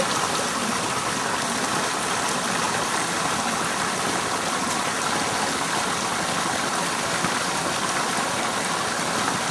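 A stream that flows year-round, feeding into a reservoir, gives a steady broadband rush of running water. It is constant and fairly loud, with no voices.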